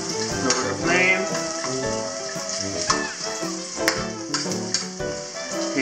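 Minced garlic and julienned ginger fry in a hot pan, a steady close sizzle with scattered crackles and pops running the whole time, with no voices over it.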